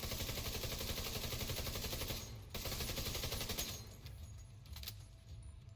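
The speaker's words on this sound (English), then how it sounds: "Oh, I can shoot through this window." Sustained automatic gunfire in The Division 2, a dense rapid rattle of shots fired through a window, broken by a brief pause and then resuming in scattered bursts with lighter shots and echoes.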